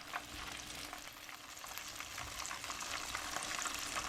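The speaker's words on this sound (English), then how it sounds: "While this is browning, I have my sauce simmering just a little bit" Orange chicken browning in a hot pan sizzles and fries steadily and densely throughout, close and fairly loud, with no voices over it.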